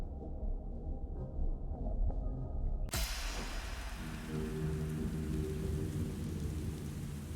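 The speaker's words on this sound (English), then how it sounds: "Got rain sounds." Rain falls in a horror video game, a dense steady hiss with rumbling thunder. It starts muffled, then opens up suddenly into loud, full downpour that carries on alone.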